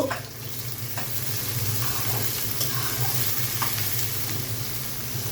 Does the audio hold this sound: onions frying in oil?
yes